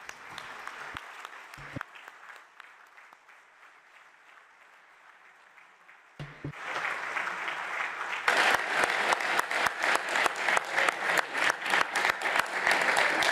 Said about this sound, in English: A strong round of applause for them all.